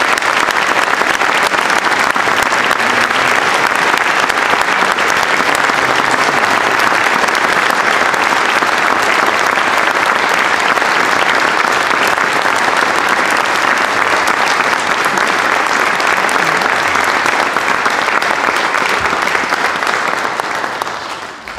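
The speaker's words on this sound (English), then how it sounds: "Please give these seniors a round of applause." Sustained audience applause for graduating seniors at a school spring instrumental concert, a dense, loud wash of many hands clapping that holds steady before tapering off at the very end.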